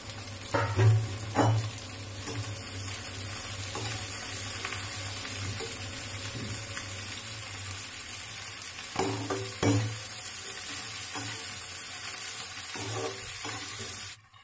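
Okra (bhindi) frying in a pan for masala bhindi, with a steady close sizzle and bursts of spoon or spatula stirring scraping the pan at intervals, no talking.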